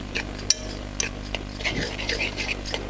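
A spoon stirs taro leaf curry in a pot, made with jaggery, tamarind and salt, giving light scraping and a few sharp clinks against the metal over a low background hum.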